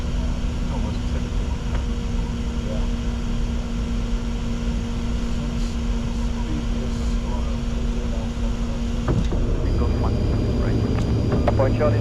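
Inside the cockpit of a Challenger 605 business jet on final approach to Nice, a steady loud engine and airflow drone with a constant whine, a sudden shift near the end, and radio voices talking over it.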